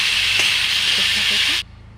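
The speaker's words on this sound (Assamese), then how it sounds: "এই মাংসখিনিৰ সৈতে পিঁয়াজখিনি গোটেইখিনি আমি ভালদৰে ভাজি ল'ম" Marinated chicken and onions frying in a pan give a loud, steady hiss for about a second and a half, then stop abruptly.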